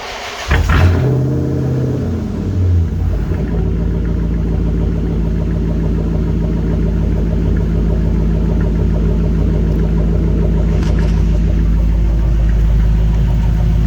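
A 2005 Dodge Magnum RT with 262,000 miles idles steadily up close, its deep even rumble holding throughout after a brief rev near the start.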